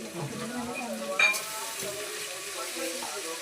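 Chicken and washed rice sizzle and fry in a hot pan, a steady close crackle with brief stirring scrapes and a sharp clink partway through.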